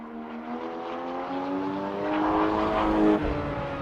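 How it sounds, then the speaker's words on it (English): A sports car engine revs steadily, its pitch climbing and swelling louder toward the end, with no other sounds. "Just listen to that engine"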